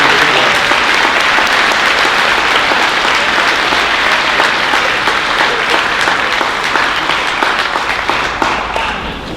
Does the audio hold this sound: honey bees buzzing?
no